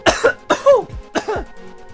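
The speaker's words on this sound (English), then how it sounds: "Wow. Cough." Three close, rough coughs come in quick succession from one person, loud and near, with brief gaps between them and no speech.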